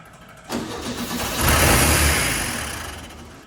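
A 1967 VW Beetle engine with a varnish-clogged carburetor cranks and catches, then runs with a rising, rough mid-pitched roar that peaks and slowly settles, loud and close with no talking.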